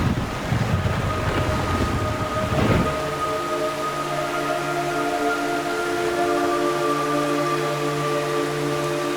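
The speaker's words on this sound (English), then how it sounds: "It's raining blood." Rain and thunder in the Metal Gear Solid 3 video game, a loud rumbling thunder roll over steady rain that settles into rainfall with sustained tonal hum.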